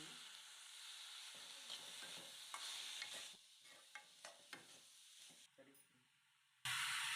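A spoon stirs vegetable sandwich filling with tomato in a pan, with a quiet sizzle and a run of soft scraping taps, ending in a sudden loud hiss.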